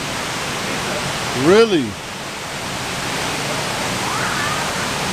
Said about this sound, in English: I can hear the raging rapids down below.